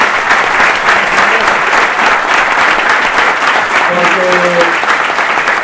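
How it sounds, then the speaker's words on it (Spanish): Loud, sustained applause from a university audience at a political talk in Misiones, Argentina, with a few voices and a brief spoken word rising through the clapping. "pedir un enorme aplauso para los que están armando una comisión de educación, ciencia y tecnología"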